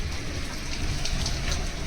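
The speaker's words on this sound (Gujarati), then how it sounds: "બહુ જ વરસાદ છે." Heavy rain pours down steadily, a dense, loud, continuous wash of drops striking surfaces close by, with no voices.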